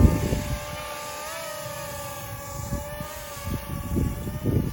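Small Tello quadcopter drone hovering in gusty wind, a thin high propeller whine that wavers in pitch over low wind buffeting, heard from a short distance without speech.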